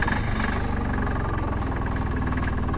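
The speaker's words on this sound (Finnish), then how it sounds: "Joo, tää auto tosiaan pitää jonkun verran meteliä." A small car engine runs continuously close by, a steady low rumble and vibration with no voices over it.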